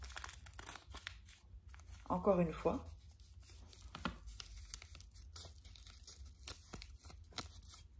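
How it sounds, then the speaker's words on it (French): A sheet of paper is folded in half with a short crisp crinkle and rub lasting about a second, close by, under someone speaking French in a quiet room. "vous allez plier la feuille en 2"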